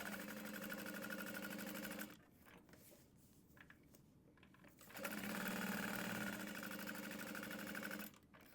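A sewing machine bastes a slip pocket onto a bag lining, running in two steady bursts of rapid stitching with a pause between them, close and clear with no talking.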